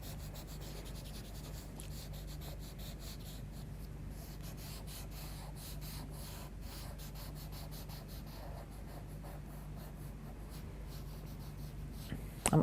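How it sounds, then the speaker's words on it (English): A paper stump rubs and blends Derwent charcoal pencil across paper in a steady, continuous close-up scratching swish with quick back-and-forth strokes, alone and quiet for the whole stretch. "pick up a paper stump and just start blending that colour in together"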